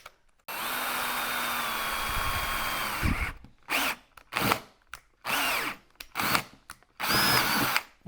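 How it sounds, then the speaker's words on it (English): A power drill bores a pilot hole into the body of a Land Rover Discovery 3 or 4, one long whining run followed by a series of short stop-start bursts, close and loud. "I think it's going to be better to drill a pilot drill."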